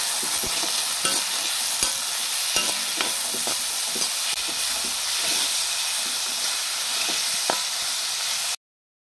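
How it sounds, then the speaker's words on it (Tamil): Raw mango pachadi frying in hot oil, a steady loud sizzle and hiss throughout with soft scraping taps of a spoon stirring the pan, no voices. "இப்போ வந்து கரண்டி வச்சு நல்லா வந்து நம்ம கிண்டி விட்டுக்கலாம்."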